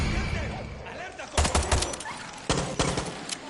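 Bursts of gunfire in Far Cry 6 as a dog is shot, two clusters of sharp rapid shots over a dense game soundscape with a dog yelping faintly.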